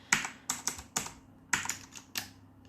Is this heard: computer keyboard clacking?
yes